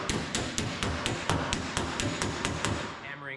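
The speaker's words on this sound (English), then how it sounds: "hammering on the back side, careful not to drive the edge of this hammer up into this curved section" A low crown hammer planishing sheet metal against a dolly, striking the back side of a curved panel in a steady run of about a dozen close, evenly spaced metallic taps.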